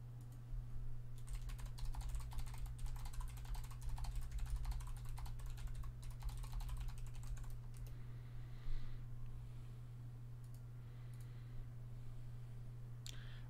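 Rapid computer keyboard typing during an online card game session, clicking in dense bursts through the first half and then thinning to scattered taps, heard fairly close over a steady low electrical hum with no talking.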